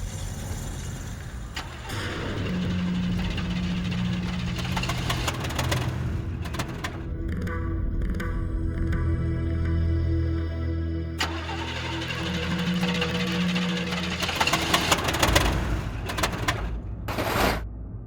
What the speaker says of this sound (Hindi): पापा मैंने गाड़ी नहीं रोकी, अपने आप रुक गई है।